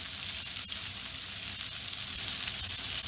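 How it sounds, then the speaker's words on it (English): Onion drops into about three tablespoons of hot vegetable oil in a pan over medium heat for Lebanese kibbeh, giving a steady, close, unbroken sizzle. "And we'll add our onion straight in."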